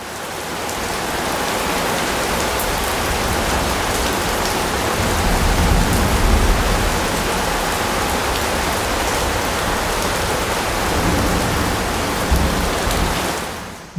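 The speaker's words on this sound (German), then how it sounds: "Unfassbar viel Regen." Heavy rain pours down in a dense, steady hiss that stays loud and unbroken for the whole stretch, with no voices and only a slight swell partway through.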